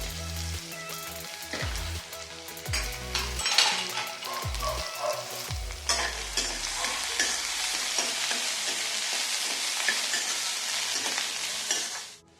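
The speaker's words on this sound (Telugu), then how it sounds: "బెంగళూరు వంకాయని చిన్న ముక్కల కింద కోసుకొని ఉల్లిపాయ కొంచెం వేగిన తర్వాత ఈ ముక్కలు వేస్తాం" Onion and chayote (chow chow) pieces sizzle and fry in a pan, with a few scraping stirs early on, then a steady, close hiss that carries to the end.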